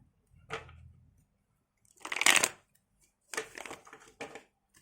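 Tarot cards are shuffled by hand in several short bursts of rustling and riffling, close and fairly quiet, separated by brief silences, with no speech.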